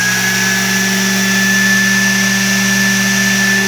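A small vacuum turbine, fed 43 volts from a homemade transformer power supply, screams loudly and steadily with a high constant whine over a droning hum, close up and uninterrupted, with no voices.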